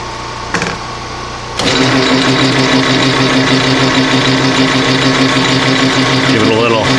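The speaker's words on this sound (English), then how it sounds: "We got the phase converter running." A rotary phase converter drives a diamond lap grinder at about 370 RPM. After a brief lower hum, a loud, steady mechanical whine and drone starts up and runs on close by, with a voice heard early on.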